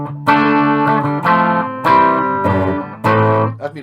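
A Les Paul electric guitar with a high-output bridge pickup plays distorted tone: four loud, gritty strummed chords, each ringing out before the next hit, close and without talk.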